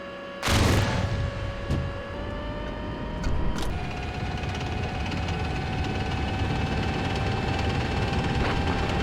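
Incoming gunfire during a combat video game battle, a loud crack and a few scattered shots over a constant engine drone with steady whining tones.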